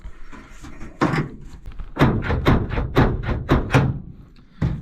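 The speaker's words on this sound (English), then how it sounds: "Door doesn't open. See if it opens from the inside." The stuck door of an old Dodge W300 4x4 dump truck is yanked and rattled repeatedly, a series of sharp metallic clunks and thuds in quick succession, close by with no talking.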